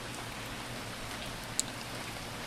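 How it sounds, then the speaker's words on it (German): Steady rain falls in the video game Phoning Home, a continuous even hiss of drops with a single brief click partway through and no talking. "Regnet auch so oft, ne?"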